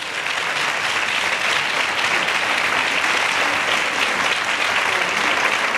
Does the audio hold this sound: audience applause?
yes